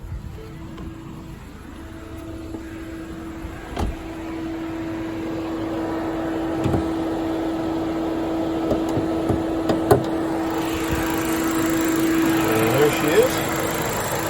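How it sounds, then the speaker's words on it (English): A 2018 Ford Fiesta SE's 1.6 liter engine idles steadily under the open hood with the AC on, a low even hum until the cooling fans kick in and add a broad rushing whoosh; a voice speaks briefly. "You can hear the fans kicked in because I think got the AC on."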